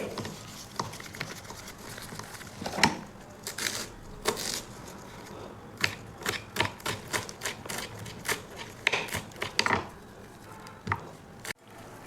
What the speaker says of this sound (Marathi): मी एवढी पानं घेतलेली आहेत आणि ही आता आपण अशी कट करायची आहेत